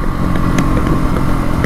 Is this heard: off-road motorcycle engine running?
yes